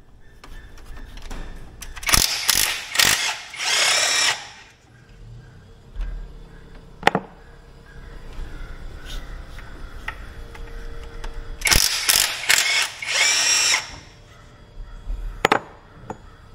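Loud bursts of an impact wrench's rapid rattling hammer while working on a water pump, two main runs several seconds apart, with quieter clicks and pauses between them.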